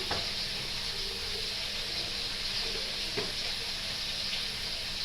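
Turmeric and spices frying in a pan, a soft steady sizzle with a few faint stirring clicks, fairly quiet and close, no voices.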